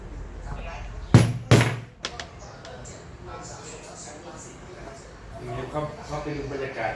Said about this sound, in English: So the little holes that I'm punching will help expand